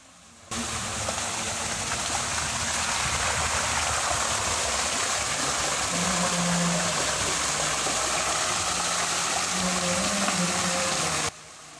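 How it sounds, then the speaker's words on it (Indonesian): Water gurgles and splashes steadily over a small mini waterfall in a mountain setting, a close, continuous rush with no talking throughout. "Kita bisa duduk-duduk sejenak di sini sambil menikmati bunyi gemericik air dan sepoi-sepoi hembusan udara gunung yang bersih dan segar."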